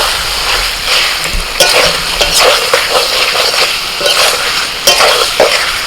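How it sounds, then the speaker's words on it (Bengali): Potatoes and cauliflower stir-frying with spices in a pan, loud close sizzling with repeated scraping strokes of a spatula against the pan, continuous and without talking. "মশলার সাথে ফুলকপি আর আলু ভালো করে আমি কষিয়ে নিয়েছি, প্রায় মিনিট 5 ধরে।"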